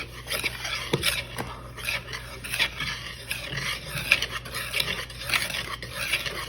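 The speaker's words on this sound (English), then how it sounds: "Okay, you're going to use our whisk." A whisk mixes ingredients in a bowl, giving repeated scraping, clinking strokes in a steady rhythm against a low background hum, with faint noises from a dog.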